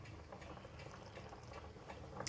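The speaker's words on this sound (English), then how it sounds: "See the boiling slowing down." Thick sauce for caramelized onions simmering in a pan, a soft, steady low bubbling and popping as the boil slows, faint and continuous with no voices.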